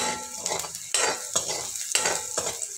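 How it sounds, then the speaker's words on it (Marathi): Chopped onion with a spoonful of salt fries in a pan and is stirred, with a soft steady sizzle broken by repeated close scraping strokes of a spoon at a regular rhythm, no voices. "कांदा चांगला सोनेरी कलरपर्यंत तळून घ्यायचा इथं।"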